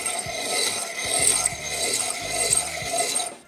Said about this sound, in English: I'm gonna use my piston ring filer here. To grind the surface.